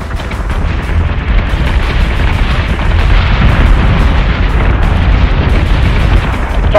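Warship guns firing in the space game Battlestar Galactica Deadlock, a continuous loud, rumbling barrage of booms and blasts with no pauses.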